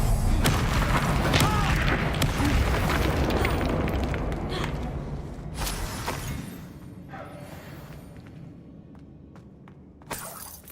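A Bombarda blast spell goes off in the Hogwarts Legacy video game: a loud, dense explosion with shattering debris that slowly fades, then a sharp second burst near the end.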